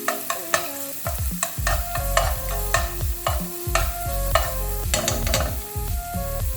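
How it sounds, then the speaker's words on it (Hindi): Crushed garlic is tossed in hot oil in a pan, giving a steady sizzle broken by frequent stirring clanks and scrapes against the metal, close and fairly loud, with musical tones running underneath. "हम हमारे इस गरम तेल में पहले थोड़ा सा जो हमारा गार्लिक है क्रश किया हुआ उसको थोड़ा सा टॉस कर लेंगे"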